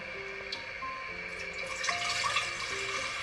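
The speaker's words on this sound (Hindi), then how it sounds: "इसमें डालेंगे थोड़ा सा पानी।" Water pours steadily into a cooking pot set out for making porridge (dalia), a continuous splashing stream that runs at an even, moderate level for the whole stretch with no talking.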